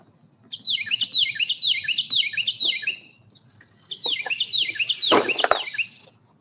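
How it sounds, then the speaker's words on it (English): Repeated bright, quick bird chirps in rhythmic bursts in a garden, a short pause, then another run of chirping, clear and fairly close. "The birds are chirping."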